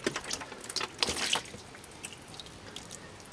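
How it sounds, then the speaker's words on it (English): Water is dribbled back and forth over plants growing in coco fiber in a hydroponic garden, a few close drips and splashes in the first second and a half, then quieter trickles. "I pick up and just dribble a little water"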